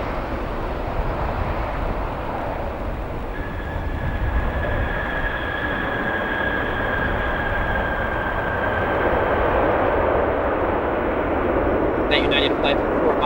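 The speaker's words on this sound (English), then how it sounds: "That United flight from Fort Myers, 737 from Fort Myers, arriving here at ORD." Broad roar of a United Boeing 737 from Fort Myers descending to land at O'Hare, a sustained rushing jet noise with a rising whine, heard from the airport with a voice speaking over it.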